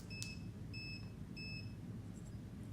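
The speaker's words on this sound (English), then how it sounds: "it will beep 2 times when you turn it on" Thin, high-pitched electronic beeps from a dog training collar sound in a short series, clean tones at a steady pace over a quiet, hissy background.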